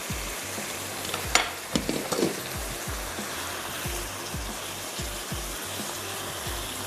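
Chicken masala fries in a pan with a steady crackling sizzle, while a utensil stirs and scrapes with a regular knocking rhythm, close and moderately loud, no talking.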